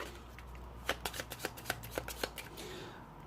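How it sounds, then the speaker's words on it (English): A deck of cards is riffle-shuffled in a quick run of about a dozen crisp flutters and snaps, close and fairly quiet, with no talk. "We are going to pop the reinforcements randomly into the deck and then shuffle them."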